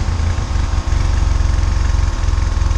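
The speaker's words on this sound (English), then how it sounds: "we got the exhaust all bolted up, and well, you want to see what it sounds like? Yeah, let's start it up." The engine of a 1989 Volkswagen Cabriolet with a freshly restored, bolted-up exhaust runs at a steady, rhythmic idle, close and loud, with a deep pulsing throb and no talk over it.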